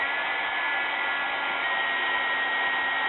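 Embossing heat tool blowing a steady, even whoosh of hot air as it melts embossing powder, close and continuous with no talking.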